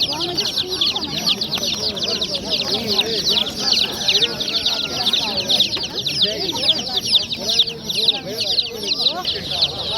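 Young chicks and chickens at a busy poultry bazaar in Namangan keep up a dense, constant high peeping with scattered clucks, close and lively, while people talk and bargain nearby.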